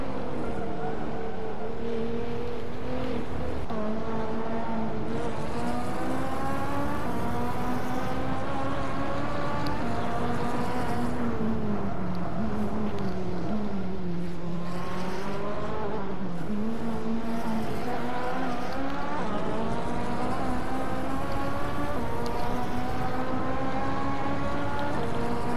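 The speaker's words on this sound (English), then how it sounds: "this car sounds really weird when it shifts up" A loud engine revs steadily and its pitch swoops down and climbs again as gears change, droning continuously with no talk over it.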